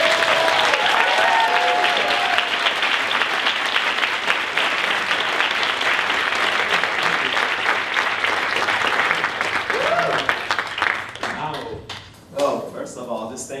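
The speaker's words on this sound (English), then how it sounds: "How about a warm round of applause?" An audience gives a warm round of applause for a speaker, steady clapping that fills most of the stretch and then thins out near the end as a few claps trail off and a voice begins.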